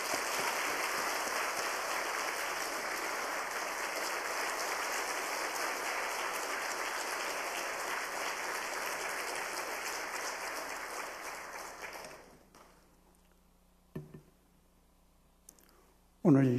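Church congregation at a Wednesday worship service applauding to welcome the pastor, a steady, moderately loud patter of many hands lasting about twelve seconds before stopping abruptly, followed by near quiet with a couple of short thumps.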